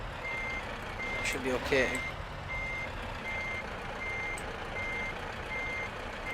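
Steady reversing beeps from a truck backing a trailer in Euro Truck Simulator 2, evenly spaced pulses over a low engine idle, with a brief air-brake hiss and someone speaking briefly over it.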